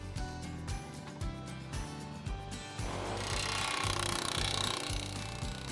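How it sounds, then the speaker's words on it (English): A metal T-post for a fence corner brace is driven into the ground, heard as repeated heavy rhythmic pounding blows, close and loud, turning into a denser continuous hammering clatter toward the end. "we're going to drive this post into the ground"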